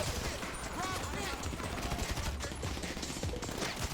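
Sustained gunfire in GTA V Online during a heist, a dense rattle of rapid automatic shots with mixed distances and no pauses, under excited chatter.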